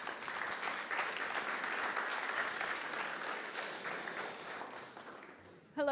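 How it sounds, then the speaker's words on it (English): A sustained round of warm applause from an audience welcoming a woman to the stage at an international gathering in Prague, steady and fairly distant, tapering off before a voice starts at the very end. "warmly welcome with a round of applause"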